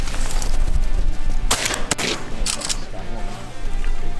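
Shotgun blasts fired at ducks during a duck hunt in the Pacific Northwest, several sharp loud shots in quick succession amid outdoor noise and talk.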